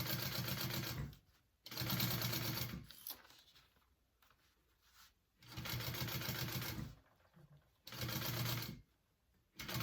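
A sewing machine stitches a 3/8 inch seam on a fabric bag, running in steady whirring bursts of a second or two separated by quiet pauses.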